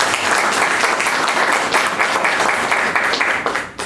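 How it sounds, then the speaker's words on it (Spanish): Loud, sustained applause from a seminar audience welcoming a guest speaker, dense clapping that holds steady before fading at the end. "señor doctor Isaías Irigoyen Sáenz, a quien recibimos con fuerte aplauso."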